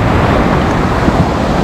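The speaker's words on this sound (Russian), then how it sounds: "Волны какие-то беспорядочные." Choppy sea waves wash onto the beach at Mahmutlar near Alanya, Turkey, a close, loud, rough surge mixed with blustery wind buffeting the microphone.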